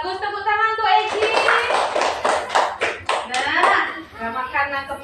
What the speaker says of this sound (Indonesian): Tepuk tangan untuk Eji